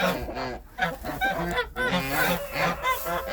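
A gander honks harshly and repeatedly as it attacks near a nest, loud close nasal calls overlapping in a continuous agitated stream.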